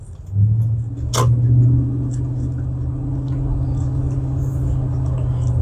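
A car engine fitted with a K&N drop-in air filter idles steadily with a deep, throaty, truck-like low rumble, close by, with a brief sharp knock near the start.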